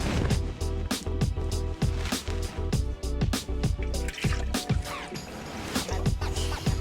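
Water is poured into a bowl as the first ingredient for homemade root beer, giving a run of splashy, gurgling pours with short pauses between them, close and moderately quiet.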